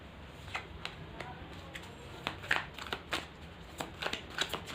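Tarot cards being shuffled by hand during a Hindi tarot reading, heard as a run of soft, quick riffling flicks and taps at close range that grow a little louder toward the end, with no talk.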